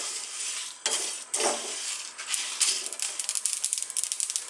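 Whole spices dry-roast in a hot pan as curry powder is made, giving off a bright, dry crackle. A few louder pops and stirring scrapes give way to quick, dense popping toward the end.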